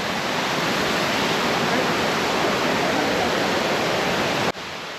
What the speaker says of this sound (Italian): la cascata dei Pappalini veramente meravigliosa